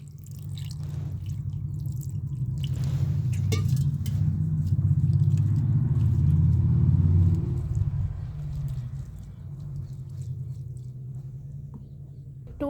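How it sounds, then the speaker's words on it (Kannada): Water splashes steadily over homemade paneer made from milk powder and curdled with lemon juice, as it is rinsed clean. A continuous low pouring and sloshing builds in the middle and then eases, with no talking. "ಸ್ವಲ್ಪ ನೀರಾಗಿ ತೊಳ್ಕೊಳ್ಳೋಣ"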